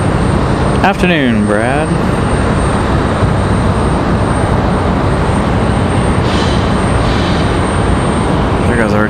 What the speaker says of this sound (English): There goes our JetBlue A220 back to Boston for the third time today.